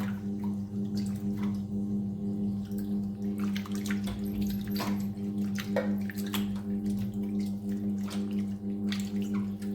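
Potato pieces are rubbed and washed by hand in alum water for potato wafers, giving scattered drips and small splashes over a steady low hum, with no talking.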